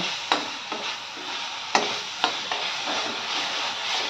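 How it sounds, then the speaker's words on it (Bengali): Spice paste frying in a pan for a small-fish curry, a continuous sizzle broken by several sharp scraping stir strokes. "অল্প কড়া ভাজতে লাগবে এটা"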